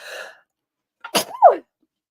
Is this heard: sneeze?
yes